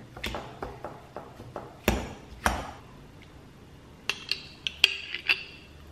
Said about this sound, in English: I'm basically just going to kind of break this up with a fork and mash it